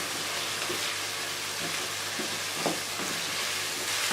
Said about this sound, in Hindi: ये बड़े अच्छे तरीके से भून रहा है